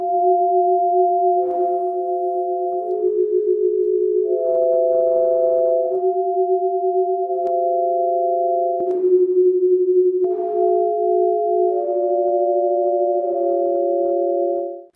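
Steady electronic tones converted from the colors of faces hold in pairs and chords, shifting to new pitch combinations every second or two, clean and sustained with no other sound.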